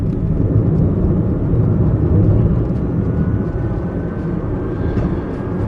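An electric Bluebird car accelerating hard up to 50 mph, a steady loud low rumble of road and wind noise with a faint rising whine, continuous throughout.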